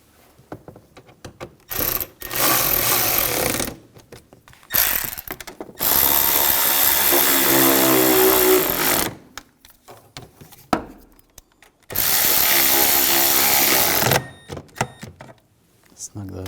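Power tool bursts tightening bolts on a 2007-2013 BMW X5 3.0L inline-six intake gasket job, several short loud whirring runs separated by quiet gaps, with talk between them.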